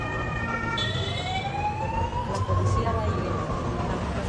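Ambulance sirens wail with rising and falling tones over a low background rumble, sounding moderately distant, at a helicopter crash scene in Medellín.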